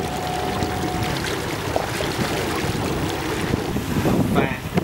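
Strong wind roars across a fishing boat out at sea, a dense, constant buffeting rush with microphone gusts and splashing water underneath.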